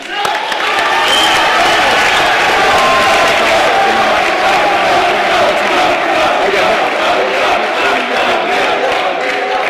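Loud crowd applause for dismissed delegates at a youth state convention, thick continuous clapping mixed with cheering and shouts from a large hall, holding steady throughout.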